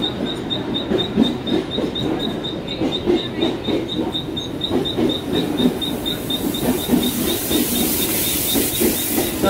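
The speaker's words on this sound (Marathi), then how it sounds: "आता ट्रेन आली आहे फायनली." A Mumbai local train rumbles into the station, its wheels clacking in a steady repeating rhythm alongside a persistent high electric whine, with a hiss building toward the end and no voices.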